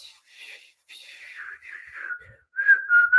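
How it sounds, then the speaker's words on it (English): A single person whistles a wavering, breathy tune in short phrases separated by pauses, growing clearer and louder in the final second, heard close up and alone. "It's like trying to learn to whistle"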